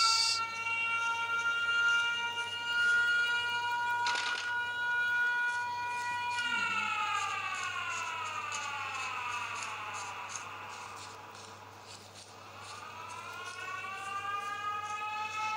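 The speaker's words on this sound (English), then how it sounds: "What is this siren for?" A loud, wailing siren from the horror game Mental Hospital V sounds steadily throughout, its harmonic tones holding level and then sweeping down and back up, with no speech over it.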